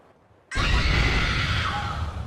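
A horror video game jump scare: a woman found dead in a blood-filled bathtub lets out a horrendous, harsh scream that bursts in after half a second of near silence and stays loud and raw, with no talk over it.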